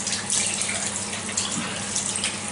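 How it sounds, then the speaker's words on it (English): Steady running water from a tap splashing continuously onto a face after a double-edge shave, close by, with no voices. "Just cold water in the face."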